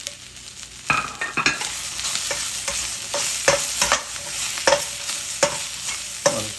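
Onion and capsicum stir-fry in a hot pan, a constant sizzle broken by sharp, frequent scrapes and clatters of a spatula tossing the vegetables, close and fairly loud with no voices.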